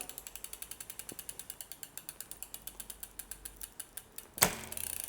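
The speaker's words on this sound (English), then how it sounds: "I'm going to put my Allen key in my bolt and then lefty-loosey undo it" An Allen key loosens a chainring bolt on a Brompton bicycle, giving a steady run of quiet, evenly spaced ratcheting clicks, followed by a brief louder clatter at the end.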